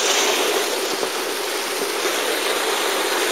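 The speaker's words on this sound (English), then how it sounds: "Here's the little waterfall." A small waterfall on a river high in the Andes near Mérida, Venezuela, roars in a steady, close, broadband rush of falling water that holds constant throughout with no voices over it.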